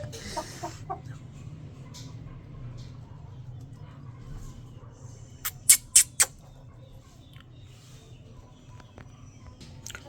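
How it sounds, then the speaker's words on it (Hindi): Farm hens give soft clucks, and a few short, sharp squawks or calls burst out midway through a quiet outdoor background. "अब ये तीनों मुर्गियाँ"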